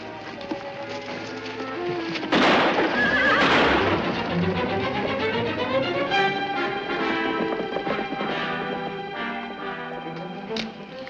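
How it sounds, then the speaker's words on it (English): Horses whinny loudly and repeatedly over clip-clopping hooves, with a drawn-out neigh in the middle and quieter calls trailing off. "Maria, get to the horses."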